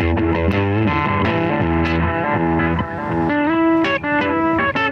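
Electric guitar played through a Digitech delay pedal set for a rhythmic echo, heard at a 2017 trade-show demo booth: bright chiming notes repeat in quick, even echoes and ring on continuously, loud and close.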